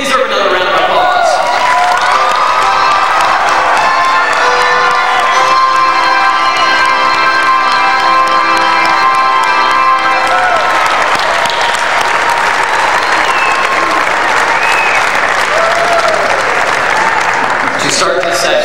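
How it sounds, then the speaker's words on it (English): A large audience at a 1997 Iowa FFA state leadership conference breaks into loud, sustained applause with some cheering, a dense wall of clapping that swells and continues for many seconds before thinning at the end. "They deserve another round of applause."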